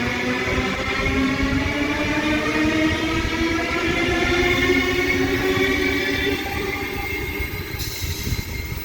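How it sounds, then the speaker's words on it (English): Sydney Tangara train departing the platform at Denistone station, a loud steady rolling rumble with rising electric motor whine tones that climb in pitch as it accelerates away, continuous throughout with no voices. "T45 and T54 now departing platform number 2"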